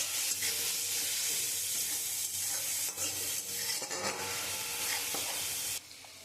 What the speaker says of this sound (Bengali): এই মশলাটা দিয়ে খুব ভালো করে কষিয়ে নেব।